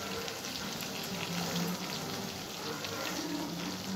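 Food frying in hot mustard oil, a steady close crackling sizzle that runs evenly throughout with no pauses and no talking.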